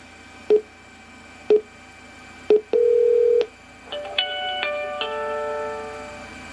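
A phone dials out with three short keypad beeps, then a longer tone, followed by a brief run of layered, stepped call-progress tones, all loud and close with no speech.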